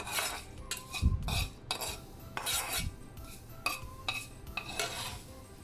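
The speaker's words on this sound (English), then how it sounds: "I'm going to add in together the fried garlic and the oil." Fried garlic and its oil spooned over steamed prawns on a plate: repeated close metal spoon clinks and scrapes against dishware in irregular bursts, with a faint soft sizzle underneath and no talking.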